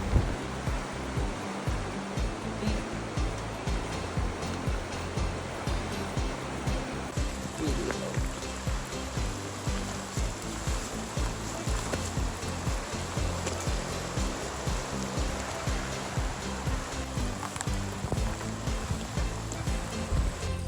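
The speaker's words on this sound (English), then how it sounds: "Crossing the Narcissus River over the suspension bridge, you can see the river was flowing well." Strong flow of the Narcissus River beneath a suspension bridge on the Overland Track, a steady broadband rushing of water heard continuously and fairly close throughout, with no talk.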